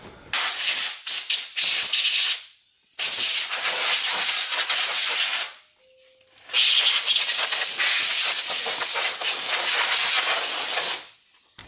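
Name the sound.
air nozzle blowing off school bus rear brake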